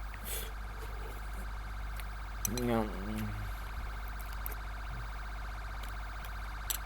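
An ambulance siren in GTA 5 gives a brief rising and falling wail midway, moderately loud against a steady low hum and faint background sounds.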